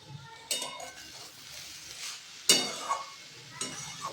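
Cabbage being stirred in a wok, with a few sharp scraping clinks of the spatula over a soft background sizzle.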